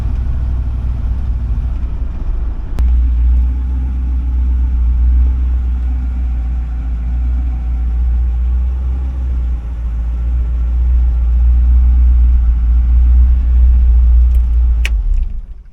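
A car engine fitted with an Edelbrock Performer carburetor, running lean, idles with a loud, steady low rumble, a couple of brief sharp clicks breaking through near the start and end.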